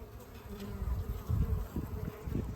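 Honeybees buzz inside a winter hive being fed fondant, a close, droning hum that swells and fades unevenly over a couple of seconds, with no talk.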